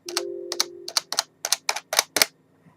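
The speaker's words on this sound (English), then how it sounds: "that's what the keys sound like" Keys tapped on a Sumvision semi-mechanical keyboard, about a dozen crisp, close clicks in an uneven rhythm, some in quick pairs, against a quiet background with no talk.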